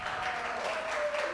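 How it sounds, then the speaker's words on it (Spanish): Applause from a church congregation, a steady dense patter of clapping hands held at even loudness throughout, with no voices over it. "démosle un aplauso"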